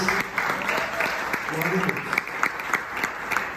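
A church congregation claps in steady, dense applause for a few seconds, with a preacher's voice speaking over it at times.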